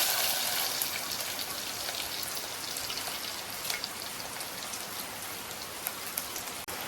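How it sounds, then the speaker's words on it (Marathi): Steady rain falls heavily on a surface, a dense hiss with scattered louder drops, continuous throughout with no voices. "पाऊस लागता बघा मस्त"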